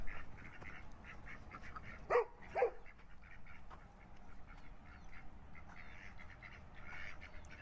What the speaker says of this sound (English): Ducks and chickens everywhere.